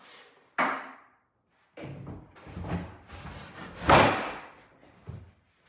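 Heavy wooden thumps and knocks as the top panel, fitted with speakers and a light, goes onto a wood mini infrared sauna during assembly, with a sharp slam-like hit near the middle among scattered bumps, close and moderately loud.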